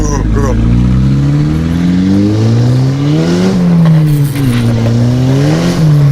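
Straight-piped Volkswagen GTI with a 3-inch downpipe revving loudly from inside the car, a droning exhaust note climbing and dipping through several pulls, with excited voices talking over it.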